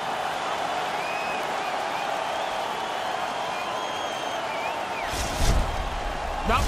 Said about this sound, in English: And the crowd back alive here inside the stadium.